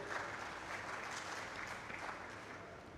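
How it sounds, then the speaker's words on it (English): Audience clapping at a science week event, a steady, fairly quiet patter of many hands that carries evenly from start to finish. "Let's clap for them."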